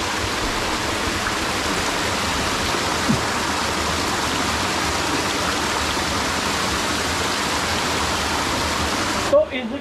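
Steady loud rushing water in a swollen mountain stream in Ramgarh, Uttarakhand, during continuous rain, a dense continuous roar unbroken throughout and ending with a brief handling noise.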